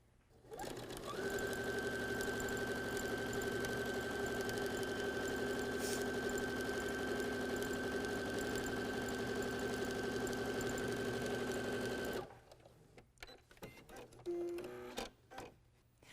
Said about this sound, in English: So let me sew my strip on here.